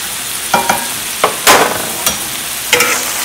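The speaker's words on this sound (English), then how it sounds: "I'm going to pour in the cauliflower rice and let it cook for 5 minutes." Cauliflower rice fries in a hot pan with a steady sizzle, broken by several loud scraping stirs as it is pushed back and forth, close up with no talking.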